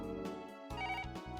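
A telephone rings in the PS1 video game Kekkon ~Marriage~ as an electronic ringtone of tonal pulses, faint and heard alone.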